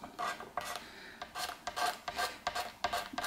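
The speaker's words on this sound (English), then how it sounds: "you can just run the blade down and clean that up very, very easily" Repeated short rasping scrapes of a scraper blade drawn along a fret edge on an Epiphone Firebird guitar fretboard, about a dozen quick strokes in an uneven rhythm, close and fairly quiet.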